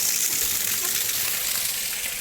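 Water flows into the collecting tank of a venturimeter laboratory rig as a steady, loud, hissing rush with no breaks.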